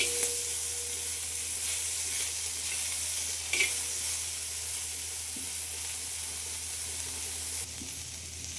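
Green chillies for an Uttara Karnataka chutney roasting in a pan, a continuous close sizzle and hiss with faint stirring scrapes and a slight drop near the end.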